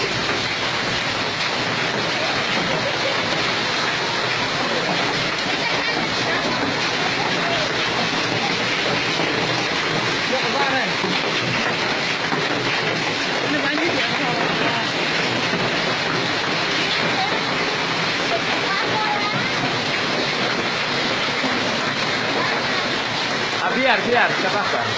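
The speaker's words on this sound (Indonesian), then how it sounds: "terjadi hujan es. Hujan es terjadi saat ini." Hailstorm in Indonesia pelting down steadily with a dense, continuous rattle and hiss of ice on surfaces and cars, loud and unbroken throughout, with a brief louder burst near the end.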